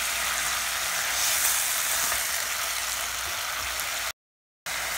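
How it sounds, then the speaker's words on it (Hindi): Tomatoes frying in a pan, giving a steady, loud sizzle with a hissing crackle that continues without a break until a sudden brief cut near the end. "इसे भून लेते हैं।"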